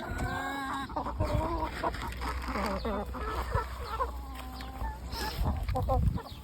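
Bresse chickens cluck and squawk busily while being fed, several birds close by making repeated calls throughout, with some talk mixed in.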